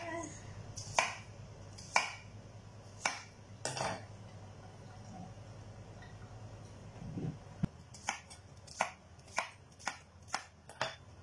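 A knife chops ingredients for Filipino chicken stew with papaya in coconut milk, striking a board in sharp, even chops, first a few spaced strokes, then a steady run of chops, close and clear.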